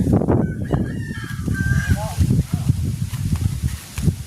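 Fowl, apparently chickens, give several short honking and clucking calls over a busy outdoor background, with people talking in Thai nearby throughout.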